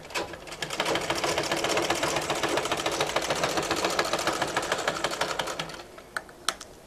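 A sewing machine runs a continuous rapid stitching burst while sewing a dart on a kameez, steady and close for about six seconds before slowing and stopping with a few final clicks.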